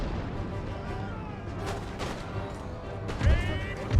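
Musket volleys and artillery in a Napoleonic-era battle in Empire: Total War, a dense rumble of distant gunfire with sharp cracks and a heavier boom near the end.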